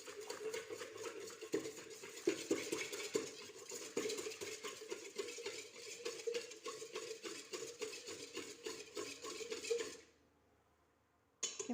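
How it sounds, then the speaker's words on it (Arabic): Dry scraping and light clinking of a utensil stirring a flour, sugar and yeast bread dough mixture in a bowl, steady close strokes for about ten seconds before stopping. "نحرك الخليط هذا"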